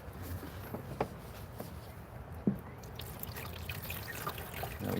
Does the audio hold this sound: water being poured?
yes